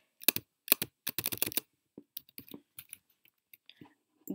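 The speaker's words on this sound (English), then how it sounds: "Should I just shove my hand on this keyboard?" A hand mashes many computer keyboard keys at once, producing several dense bursts of clattering clicks up close, followed by scattered lighter key taps and quiet rustling.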